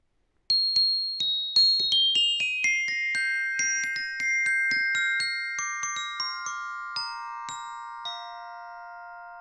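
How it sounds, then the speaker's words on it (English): Bright, ringing glockenspiel (orchestra bells) tones struck one after another in a descending run, each note sustaining and overlapping, played alone with no voices. "I'm going to play a little bit for you on the orchestra bells."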